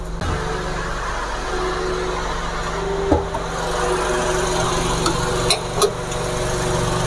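Used car engine idling during a manual transmission check, a steady low rumble held throughout with a few faint clicks and knocks over it.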